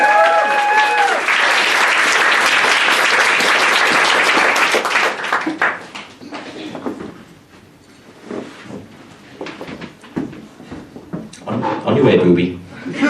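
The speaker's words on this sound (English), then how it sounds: "Round of applause" Audience round of applause at a live comedy show, loud dense clapping for about five seconds that quickly thins out into scattered claps and murmurs, followed by someone speaking and some laughter.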